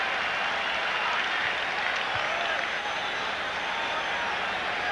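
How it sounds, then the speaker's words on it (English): Stadium crowd at a 1994 Detroit at Boston baseball game cheers and roars continuously, a dense, loud wash of noise that holds steady throughout without letting up. "and the crowd comes to life."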